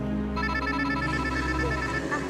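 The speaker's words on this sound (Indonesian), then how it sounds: "Sebentar saya angkat telepon dulu ya." A telephone ringing indoors in a domestic drama scene, its steady repeating electronic ring tone sounding continuously and fairly loud throughout.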